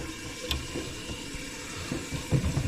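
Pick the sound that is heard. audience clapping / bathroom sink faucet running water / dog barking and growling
bathroom sink faucet running water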